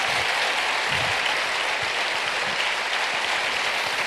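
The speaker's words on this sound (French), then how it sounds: "Merci beaucoup, vous pouvez les applaudir très fort." Audience applause at a formal presentation event, a dense, steady wash of clapping hands filling the room for several seconds, fairly loud and continuous with no pauses.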